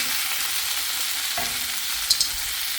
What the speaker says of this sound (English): Stir my vegetables so they don't get burnt.